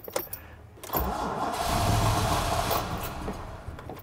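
A car engine cranks with a rough whirring churn after a brief quiet start, straining for a few seconds before tapering off without clearly catching.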